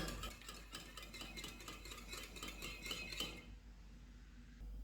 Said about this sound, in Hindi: इनमें दूध डालेंगे और इसको मिक्स कर देंगे